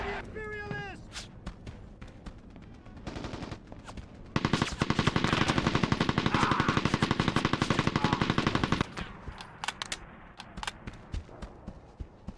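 Mounted .50 cal machine gun firing in Mercenaries 2, long rapid bursts of heavy automatic fire that dominate the middle, with scattered single shots and voices talking around them.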